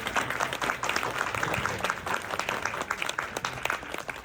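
An audience at a drama event applauds, a dense continuous patter of many hands clapping at moderate volume, with faint voices mixed in.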